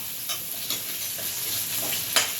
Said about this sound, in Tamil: வெங்காயம் வந்து இப்படி நல்லா வதங்கணும்.